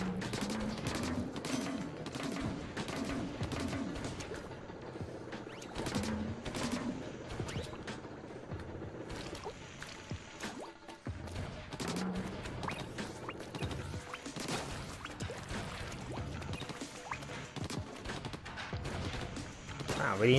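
Burst gun firing in the video game Splatoon 2, rapid clusters of sharp splattering shots repeated throughout over constant game music and effects, with a player talking over parts of it.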